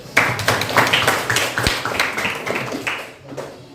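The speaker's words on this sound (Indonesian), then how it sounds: "Beri aplaus dulu." A classroom group claps together in a short burst of applause, with close, uneven rapid claps that stay fairly loud for a few seconds before thinning out.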